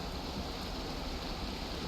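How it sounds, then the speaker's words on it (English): Ocean waves in the video game Valheim during rain at sea, a soft continuous wash of surf and wind, faint and unbroken. "we're getting some waves"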